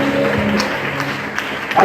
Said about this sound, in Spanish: ¿Y cuántos pueden dar un aplauso al Señor?